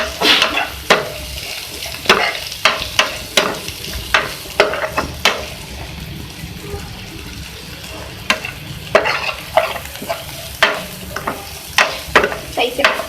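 Green chillies and spices get stirred in a hot pan for baingan bharta, with a spoon scraping and knocking against the pan at an irregular rhythm over a continuous close sizzle.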